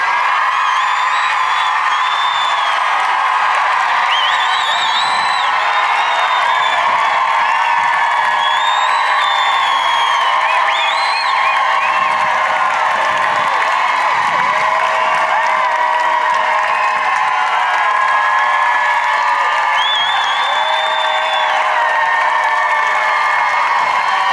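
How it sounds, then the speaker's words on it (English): A protest crowd of women cheers and whoops loudly, a sustained wash of high shouting and scattered squeals that continues steadily without a break, with occasional voices rising above the roar. "I want all the ladies in the crowd to cheer their lungs out"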